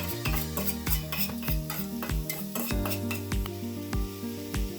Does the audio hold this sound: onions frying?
yes